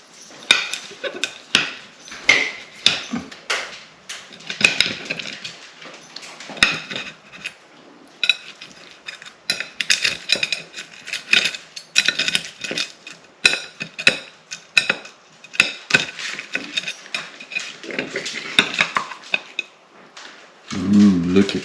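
Slices of egg pie with cheese and sausage are lifted onto a plate, giving close scraping and clinking of a utensil against a dish in uneven bursts throughout.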